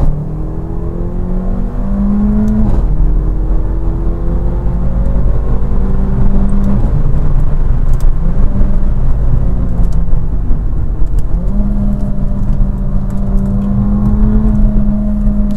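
A car with a 7-speed DSG automatic gearbox accelerates: a loud, steady engine drone climbs in pitch, then dips briefly at each quick gear change, repeating several times over a long run.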